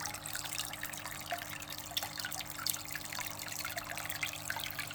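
A steady low hum with trickling, bubbling water and light drips from a small Oase Biostyle aquarium filter running close by.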